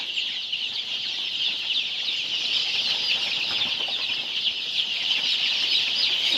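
A dense, continuous chorus of high peeping from about a thousand chicks fills a poultry farm brooder, loud and unbroken throughout with no pauses.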